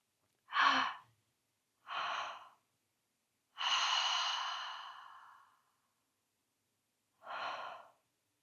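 Slow guided breathing at an unhurried pace: a short inhale, another breath, then a long drawn-out exhale of about two seconds tapering away, and a final breath, each clear and close with silence between.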